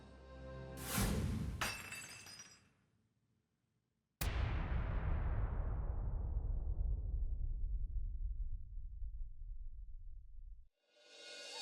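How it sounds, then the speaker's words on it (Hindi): Glass shatters with a loud crash, followed by a long ringing, tinkling decay of falling shards that fades over several seconds. A shorter breaking burst comes earlier, and another begins at the very end. "टूटे हुए कांच को समेटने की कोशिश।"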